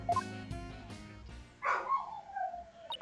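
A pet dog barks a few times in the background, sharp yips followed by a drawn-out whine, fairly faint and alone without talk.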